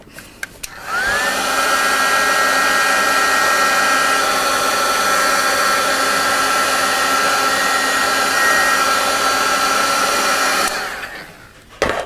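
A heat gun blows hot air onto embossing powder, a loud steady whining blower hum that switches on, holds constant for about ten seconds, then winds down and stops.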